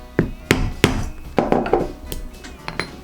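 Hammer blows on a punch cutting a hole in leather for a double-sided rivet on a zipper pull, about eight sharp knocks at uneven intervals, close and clear, with a faint metallic ring and no talk.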